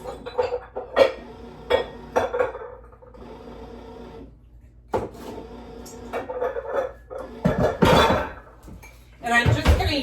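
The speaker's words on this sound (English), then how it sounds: "I'm just going to grab out my measuring bowls" Small measuring bowls and dishes handled in a home kitchen while making cinnamon raisin bread, giving scattered close clinks, knocks and rubbing sounds in irregular bursts with brief pauses between them.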